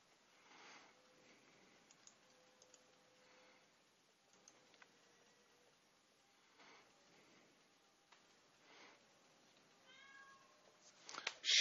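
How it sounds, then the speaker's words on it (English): A house cat meows a few times in the background, faint and intermittent over a quiet room while a card game is played, with a louder sound near the end. "Shut up, cat."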